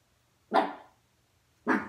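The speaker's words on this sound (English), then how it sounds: "Sorry, it's my dog." A dog barks twice indoors, two loud, sharp barks about a second apart with silence between them.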